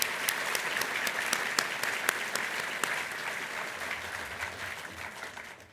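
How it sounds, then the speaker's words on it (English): Applause from the audience at a business leadership talk, a steady crowd clapping with sharp individual claps standing out nearby, slowly fading toward the end. "One more round of applause, please"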